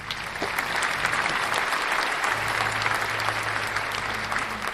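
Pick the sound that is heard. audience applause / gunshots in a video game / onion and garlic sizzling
audience applause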